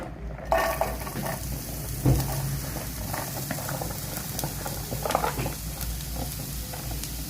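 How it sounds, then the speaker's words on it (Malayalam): Two onions sautéing in hot oil in a pan toward golden brown give a dense, continuous sizzle with small pops and an occasional utensil clink, heard close. "ഈ സബോള നന്നായി സോട്ട് ചെയ്ത് കൊടുക്കണം"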